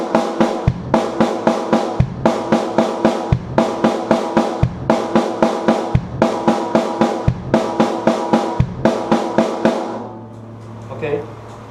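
A drum pattern combining four hand strokes and one bass drum kick repeats in a steady groove of loud, close strikes with cymbal wash, ending in a brief ringing tail.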